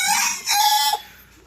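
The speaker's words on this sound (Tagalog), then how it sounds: "Dito may manok dito mga farmers." Chickens in a farm yard give a short, loud crow and cluck up close. The sound swells after a brief dip, then fades out within a second and a half.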